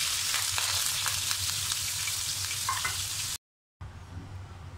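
Thinly sliced yellow onion sizzles loudly and steadily in hot oil, a dense close crackle that cuts out briefly before resuming more quietly.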